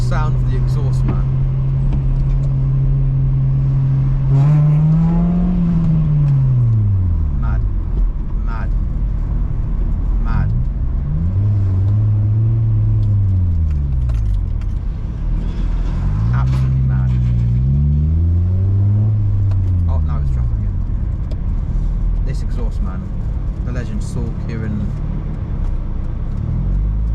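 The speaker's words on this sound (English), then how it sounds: "The sound of the exhaust, man." A car fitted with a new aftermarket exhaust drives along, its engine droning steadily and then rising and falling through revs and gear changes, loud and close with a constant road rumble underneath.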